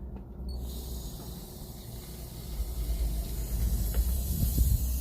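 Water running through a repaired garden hose connected to a wind-up hose reel, heard as a steady hiss and rushing flow that grows slightly louder toward the end.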